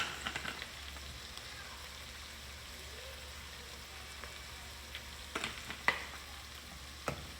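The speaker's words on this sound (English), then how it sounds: "You're just gonna cook this until everything lets out their oils and then the onions and the green peppers soften up." Onions and green peppers frying in oil in a pot, giving a soft, even sizzle with occasional light pops and stirring clicks, quiet and close.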